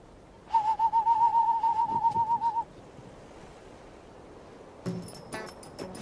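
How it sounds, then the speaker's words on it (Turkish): A steady, wavering owl hoot holds for about two seconds, then short bright chirps and calls follow against quiet background noise. "Bu ne sesi? Kuş. Ne kuşu? Baykuş."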